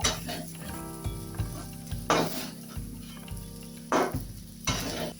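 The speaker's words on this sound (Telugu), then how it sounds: "ఒక 5 minutes ఇలా ఫ్రై చేసుకోవాలండి బాగా." Schezwan fried rice sizzles over high heat while a ladle tosses and scrapes it around the pan, loud bursts of stirring every second or two over a continuous fry, close up with no talking.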